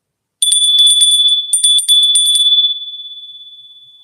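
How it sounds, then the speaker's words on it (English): A small bell is rung quickly in two bursts of bright metallic strikes, then left to ring out in a long, slowly fading tone in otherwise silent surroundings. "I'm going to open the energy and ring that bell."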